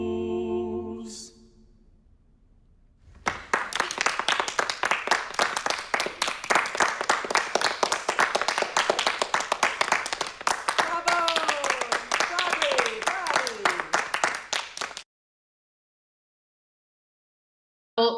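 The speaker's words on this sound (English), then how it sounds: "They were just clapping." A group of people claps in a dense, steady burst of applause lasting about twelve seconds, heard close and loud, after a brief spoken voice at the start.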